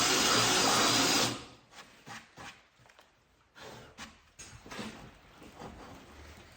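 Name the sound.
drill making a test hole for rebar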